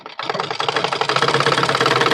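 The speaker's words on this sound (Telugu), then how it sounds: "ఇది ఎమ్మింగ్ పెట్టేసుకొని ఎమ్మింగ్ చేసి కుట్టిప్పేసుకోవాలి." A sewing machine runs a thicker hemming stitch along fabric, a fast rapid-fire rattle that starts after a brief click and keeps going steadily and close, with no talking.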